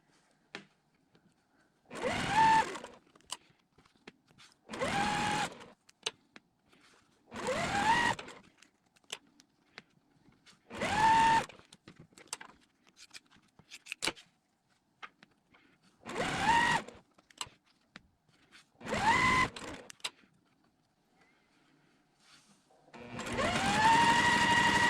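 A sewing machine chain piecing quilt block units, running in seven separate bursts of a few seconds each with quiet pauses between them, and the last burst carries on to the end.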